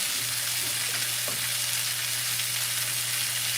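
Meat searing in a hot pan, cooked in batches, gives a constant close sizzle and crackle with a low steady hum underneath, with no voices.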